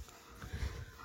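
Arka, a dog in the middle of a seizure, breathes heavily with close, wheezy, snorting huffs, a short low rasping burst in a quiet room.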